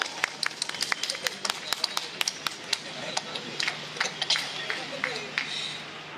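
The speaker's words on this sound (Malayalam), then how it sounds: "കൈയടി വന്നു" Scattered, uneven hand claps ring out from an audience at a stage event, sharp individual claps rather than full applause, with someone talking underneath.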